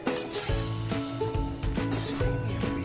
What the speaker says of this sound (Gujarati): આપણે મિશ્રણ સાથે સારી રીતે આને મિક્સ કરી લેશું.